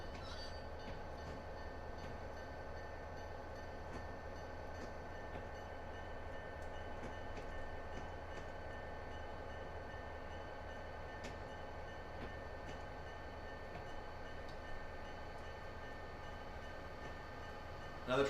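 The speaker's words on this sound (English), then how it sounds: "Another train going by over there, you can hear it." A video game train rumbles steadily past at a distance on Cajon Pass, a constant low drone with faint clacking and occasional metallic ticks, no voices.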